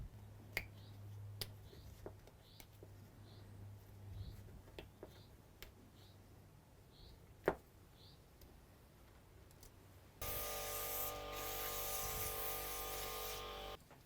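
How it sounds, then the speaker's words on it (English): A compressed-air airline blowing hard through a cleaned carburetor mesh screen from a small scrap engine, loud and steady hissing that starts suddenly partway through and holds to the end, after scattered light clicks and taps. "And we have the mesh screen, which I've just cleaned with the airline."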